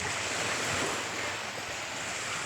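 A steady wash of sea surf roars close by on the shore, broad and unbroken, with some wind rumble on the microphone and no voices.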